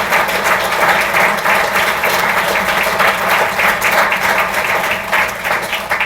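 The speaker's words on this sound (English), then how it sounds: "And you can applaud that." Applause from an audience at a 2019 spotlight speech event, a dense, steady wash of clapping held throughout at even loudness.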